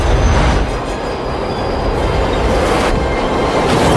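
A train rolls past on the rails as a loud, close, continuous low roar with a heavy rumble, staying steady throughout.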